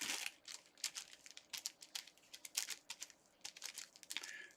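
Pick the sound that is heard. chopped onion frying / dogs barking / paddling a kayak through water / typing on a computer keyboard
typing on a computer keyboard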